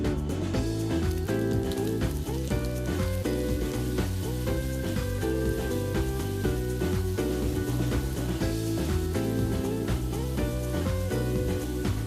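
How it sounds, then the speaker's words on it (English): Corn tortilla strips frying in oil, a dense, steady sizzle that holds continuously while music plays over it. "I always like to top my tortilla soup with some fried tortilla strips."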